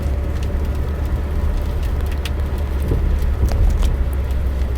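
A manual transmission car accelerates in fourth gear, the engine giving a steady loud low drone from inside the cabin with faint clicks and rattles on top, and no talking.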